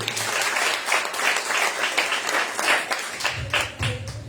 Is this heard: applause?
yes